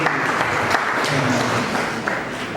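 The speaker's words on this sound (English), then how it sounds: "let's also clap for ourselves" Audience at a National Stakeholders Symposium clapping for themselves, a thick, continuous patter of many hands in a room, steady and fairly loud from start to finish.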